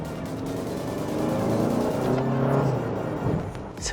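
Hyundai Santa Fe gasoline SUV accelerating in sport mode, a steady engine drone rising in pitch as it pulls, heard from inside the cabin with constant road noise and no talking.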